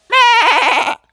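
A man imitates a male goat, giving one loud, close bleat that wavers and trembles, about a second long, with no other sound around it.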